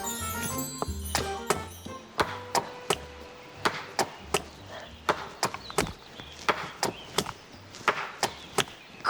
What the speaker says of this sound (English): I was just chopping some wood.